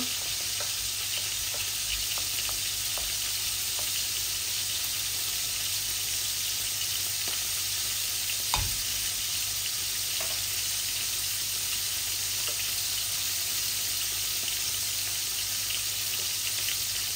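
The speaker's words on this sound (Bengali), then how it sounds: "এই যে গরম হচ্ছে আমার শুকনো উপকরণগুলো।" Dry spices heat in a pan for a rohu fish head and potato dish, giving a steady, close sizzle that runs throughout. Faint ticks and one brief utensil clink break in partway.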